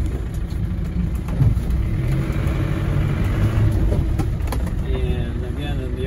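A 1990s Land Rover Defender 110 Tdi diesel is driven along, its engine a steady low rumble with mild swells in revs, heard from inside the vehicle with road and wind noise.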